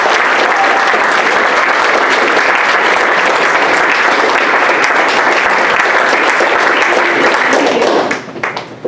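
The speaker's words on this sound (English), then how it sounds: "So if you don't mind just doing a quick round of applause." Audience at a Saturday spiritual service breaks into a loud, sustained round of applause that holds steady for about eight seconds before quickly tapering off at the end.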